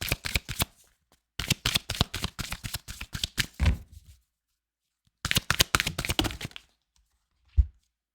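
Tarot cards being shuffled close up in two long riffling bursts separated by a pause, followed by a single soft thump as the deck is set down.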